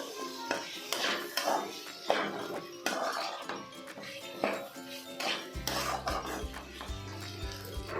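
A spoon scrapes and clinks against a pan as chopped tomato is stirred into a potato and capsicum fry, with irregular metallic knocks and rubbing, joined near the end by a steady low hum.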